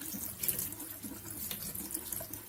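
Water gushes steadily from the tap of a small instant water heater, a close, even rushing splash into a sink, soft and continuous with no talking.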